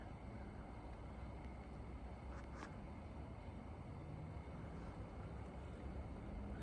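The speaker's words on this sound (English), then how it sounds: "It is smooth and quiet as a Garrard motor should be." A reassembled Garrard 30 turntable motor from a Crown 107 runs with a steady, smooth, quiet hum and a faint even hiss, unchanging throughout with no talk.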